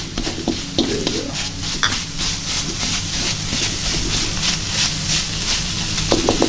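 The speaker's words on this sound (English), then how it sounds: "I'm just kind of mixing it in as to not burn that coconut milk." Coconut milk for Thai red curry being stirred in a hot pan, a steady sizzle with continuous utensil scraping and occasional clinks against the pan, close and loud throughout, with no talking.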